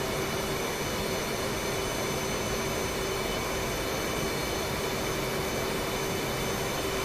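An F/A-18C Hornet jet in the flight simulator DCS World on a landing approach, heard as a steady, loud, unbroken engine roar with a faint whine running underneath, with no voices.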